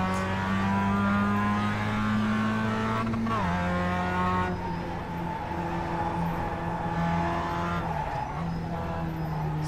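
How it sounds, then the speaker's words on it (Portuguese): Mazda MX-5 race car engine in the iRacing video game at the Charlotte road course, a steady loud buzzing drone that drops and climbs with gear shifts, with faint tyre squeal. "Com uma Mazdinha aqui MX-5, o carro que todo mundo inicia aqui no iRacing."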